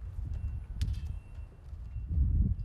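Gentle horses of about 1,200 pounds walk at a barn, their hooves making a few soft, uneven clip-clops nearby against low rustling.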